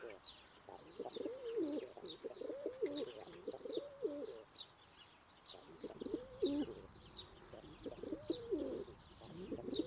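A pet pigeon-type bird coos repeatedly in a garden, soft rolling phrases in short bursts, with faint chirps and quiet voices in the background.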